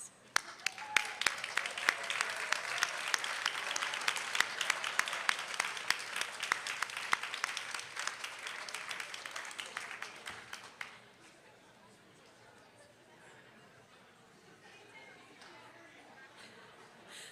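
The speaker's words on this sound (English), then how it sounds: "look around, find your loved ones, make eye contact, okay, and give them a round of applause" Commencement audience at a Northwestern Health Sciences University ceremony applauding their loved ones, with dense clapping and scattered sharp claps for about ten seconds before it dies away to quiet room murmur.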